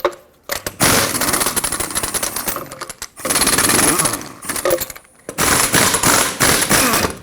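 Lug nuts come off a Ford F-150 wheel with a 21 mm socket on a power tool, in three loud, close bursts of rapid hammering with short quiet gaps between them.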